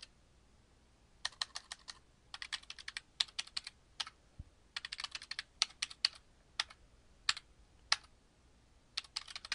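Keys on a Mac keyboard clatter in quick bursts as a username and password are typed, close and crisp with short pauses between runs of keystrokes in a quiet room.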